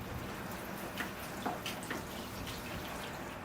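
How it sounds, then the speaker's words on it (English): Water poured over a small ficus bonsai to rinse off soap, a faint patter of drips and trickles against a steady low hiss, quiet and without voices. "Now I can re-water it, rinsing all that soap and water off."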